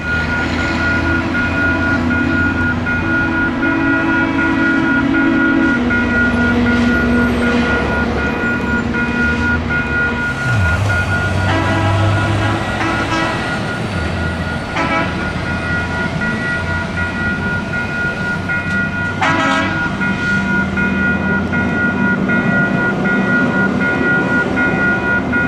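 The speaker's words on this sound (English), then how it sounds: "A ballast spreader and a tie adjuster rolled by on the end of Chicago line." A ballast spreader and a tie adjuster, rail maintenance vehicles, rolling past on a rail line, a loud continuous rumble with steady engine drone and occasional metallic clanks throughout.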